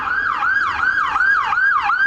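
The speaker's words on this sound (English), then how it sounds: "ambulance" An ambulance siren wails steadily nearby, its pitch sweeping up and down in a fast repeating cycle about four times a second.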